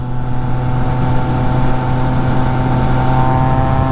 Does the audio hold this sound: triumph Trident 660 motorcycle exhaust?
yes